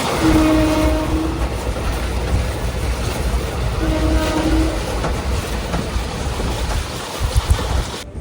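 A slow train on the Mumbai to Ahmedabad line rumbles and rattles continuously near Anand Junction, a loud steady roar with a couple of brief tonal squeals and clatter building toward the end.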